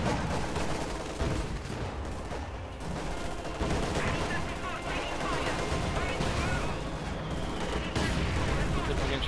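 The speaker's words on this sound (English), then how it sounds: "Shots." Dense gunfire and explosions from a Company of Heroes 2 match between Soviet and OKW forces, continuous loud overlapping shots and bursts with a commentator's voice running over the battle.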